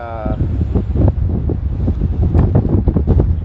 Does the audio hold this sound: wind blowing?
yes